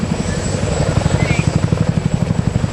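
A twin-engine Marine Cobra military helicopter departs, its rapid rotor thumping pulsing steadily and loudly beneath a constant turbine whine, close and dominant throughout.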